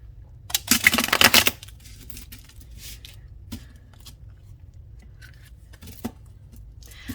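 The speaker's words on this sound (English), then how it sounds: "Let's give it a good shuffle." A Lo Scarabeo tarot deck is riffled close to the microphone in one loud, rapid shuffle, followed by quieter scattered taps and slides of the cards.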